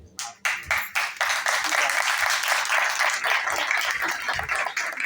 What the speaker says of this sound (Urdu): خدا کے کلام کے لیے، خدا کے وطن کے لیے زوردار تالیاں۔